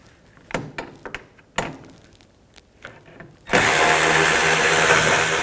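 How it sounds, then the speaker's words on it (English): A 10mm socket works a bolt on the front lower control arm area of a 2003-10 BMW X3: scattered close metallic clicks and knocks, then a loud, continuous powered whir takes over for the final two seconds. "we want to get that nut off right there, that bolt. I'm going to use a 10mm socket"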